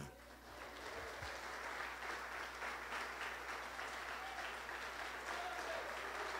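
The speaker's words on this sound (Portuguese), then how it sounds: "eu gostaria que a igreja aplaudisse ao Senhor." A church congregation applauds together in sustained, dense clapping that holds steady from start to finish, filling the room at moderate loudness with no break.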